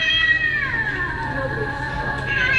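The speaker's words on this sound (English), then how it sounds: "And then they have this cat one that is also animated." An animated Halloween cat decoration from Target plays a loud, drawn-out electronic meow that bends downward in pitch and then wavers, clearly heard over faint background store noise.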